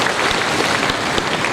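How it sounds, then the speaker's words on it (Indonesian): Dense, steady applause from a large audience at a university graduation ceremony (Wisuda), loud and close, filling the whole short stretch. "Tepuk tangan dong."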